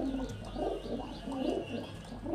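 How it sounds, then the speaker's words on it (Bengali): Two Kamagar and Rampuri cross pigeons coo close by, repeated soft, throaty rolling calls in a slow rhythm over a faint background hum. "এখানে দেখতে পাচ্ছেন আমাদের 2 পিস কামাগার এবং রামপুরি ক্রসের পায়রা আছে"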